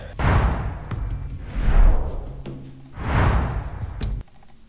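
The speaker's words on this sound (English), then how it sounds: "now let's do some swooshes" Three airy swooshes of the kind used for anime fight moves, each a loud rising-and-falling rush of air at a steady pace, followed by a short low hum near the end, with no voices.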